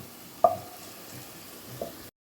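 Fried onions (beresta) are lifted out of hot oil for mutton biryani: a soft, steady sizzle with two sharp clinks of a utensil against the pan.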